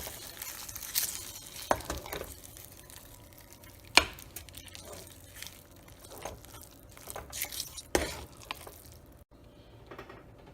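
A spoon stirs ven pongal, a rice and lentil dish, in a pot, making soft scraping and squelching with a few sharper knocks against the vessel, close and fairly quiet, with no talking.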